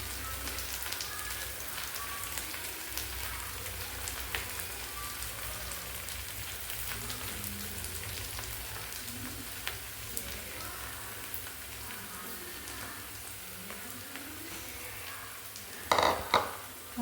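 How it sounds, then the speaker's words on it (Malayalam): Potatoes fry in a pan with a soft, steady sizzle and crackle, faint and continuous, with a brief louder clatter near the end. "ഒന്നത് ഫ്രൈ ആയി വരുന്നവരെ വെയിറ്റ് ചെയ്യാം കേട്ടോ"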